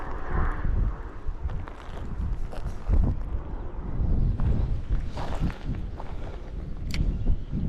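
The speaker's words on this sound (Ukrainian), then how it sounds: "вітер зі сторони мосту" Steady wind buffeting the microphone with low rumbling gusts throughout, and some faint rustling on top, on a shore by a bridge.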